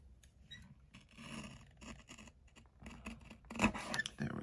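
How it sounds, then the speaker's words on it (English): Scissors snipping through paper pieces for a paper-pieced craft box, cutting them in half: soft rasping cuts and rustling handling noises, close and quiet, ending in a sharper snip. "now I'm going to go ahead and cut them in half"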